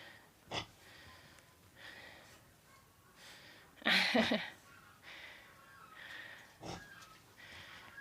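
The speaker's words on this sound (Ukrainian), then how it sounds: "А, вони собі там щось риється. Свині є, свині." Pigs snuffle and grunt nearby, with one loud, forceful snort in the middle and a brief human voice at the start.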